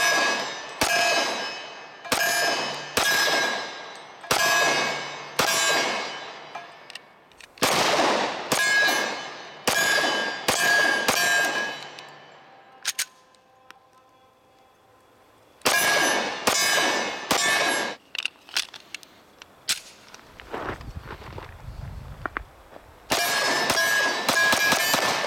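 Rapid strings of shots from a Kahr CM45 .45 pistol with a double-action-only trigger, each sharp crack followed by the ringing clang of steel targets, fired in quick bursts separated by short pauses, loud and close with no talking.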